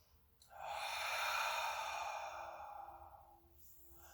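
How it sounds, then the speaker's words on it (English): A long, audible cleansing breath during a chair yoga session, one steady airy exhale lasting about three seconds, close and soft, with no talking. "You'll take your cleansing breath."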